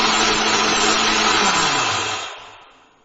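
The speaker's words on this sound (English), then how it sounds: "We will grind it using an electric grinder." An electric grinder grinding rice and sesame seeds into powder whirs loud and steady close by, then winds down and fades out at the end.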